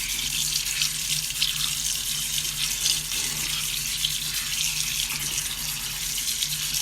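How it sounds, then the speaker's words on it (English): A kitchen tap runs steadily as wood ear mushrooms are rinsed in a strainer, giving a constant close hiss and splash of water throughout. "So I just put these wood ears in the strainer and I am going to rinse them."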